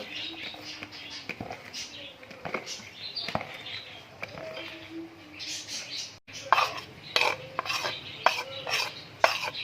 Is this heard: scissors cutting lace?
no